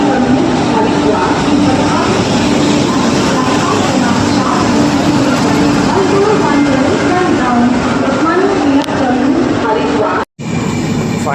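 Haridwar Express pulling out of Kalyan station, a steady, loud rumble of the moving train carriages running continuously under people talking nearby, with a brief dropout near the end.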